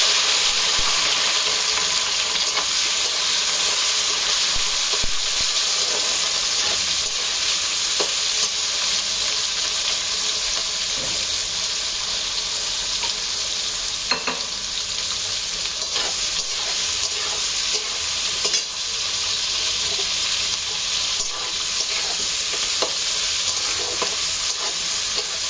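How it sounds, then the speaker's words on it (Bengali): Vegetables stir-fried in a pan for a festive Bengali Christmas dish give a continuous bright sizzle with occasional stirring scrapes and clinks, steady and close, with no talking. "এবার আমি এখানে যে সব সবজিগুলো আছে দিয়ে দেবো"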